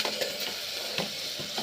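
Chicken frying in a pan with ginger and garlic, a dense, close sizzle with brief bursts from stirring, steady throughout and without talk.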